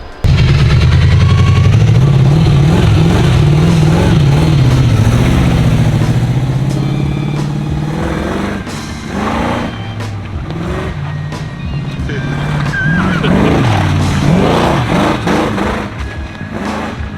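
A V8-swapped Porsche 911 roars under full throttle, a loud, continuous low engine drone with surging revs that dip and climb again across the whole stretch, close and dominant.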